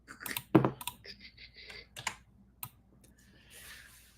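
Computer keyboard keys are typed in short, irregular bursts of crisp clicks, close and alone, with pauses between clusters.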